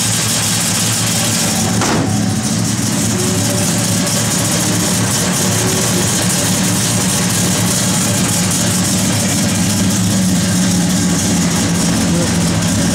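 A 1968 Dodge Coronet R/T engine idles steadily and loudly up close, a continuous low, throbbing rumble with a brief sharp click near the start and no talking over it.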